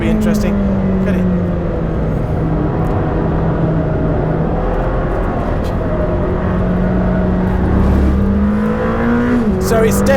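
A Lamborghini Temerario on a racetrack, its engine droning loud and steady close by, pitch shifting as it accelerates and then brakes, with a voice talking over the noise throughout.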